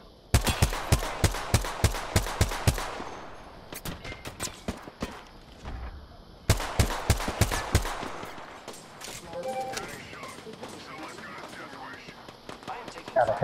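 Weapons fire in Apex Legends comes in rapid automatic bursts, first a long rattling volley, then a pause, another burst and quieter scattered shots, with faint voices underneath.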